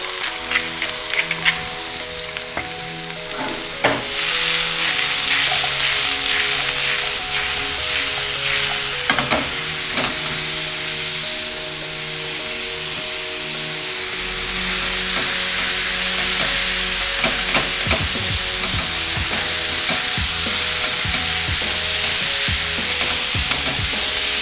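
Salmon with zucchini and eggplant frying in a pan with rosemary, a loud steady sizzle with occasional stirring and scraping, growing fuller and hissier partway through, with no talking.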